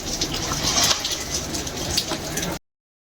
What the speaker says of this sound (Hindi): और बारिश इतनी ज़्यादा है